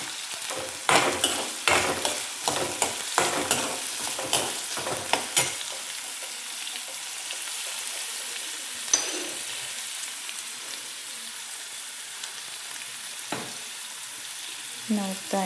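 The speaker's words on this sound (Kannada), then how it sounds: "ಈರುಳ್ಳಿ 1 ನಿಮಿಷ ಬೇಯಿಸ್ಕೊಂಡ್ಬಿಡೋಣ. ಇದಕ್ಕೆ ಇವಾಗ ಹಸಿಮೆಣಸಿನ್ಕಾಯಿ," Onion and green chillies fry in a pan. Several clattering bursts of stirring come first, then a softer continuous sizzle with occasional scrapes. No one speaks.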